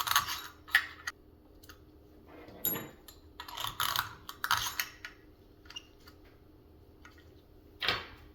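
Bolts being inserted by hand into an AL60 cryogenic cooler during a teardown: scattered small metallic clicks, taps and scrapes, close and fairly quiet, arriving in irregular bursts with short silences between.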